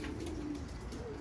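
Pigeons coo softly and steadily in a loft, a low, muffled murmur with a hum of background noise behind it.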